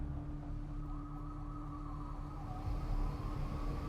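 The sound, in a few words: sirens in the video game Life Is Strange Reunion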